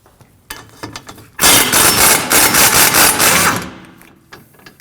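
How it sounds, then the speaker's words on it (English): A power tool, likely an impact wrench with a 24mm socket, rattles in a loud sustained burst for about two seconds while removing a rear strut bolt on a 2016-2022 Honda Pilot. Faint clicks and tool handling come before it. "We'll go ahead and remove the strut bolt with a 24mm."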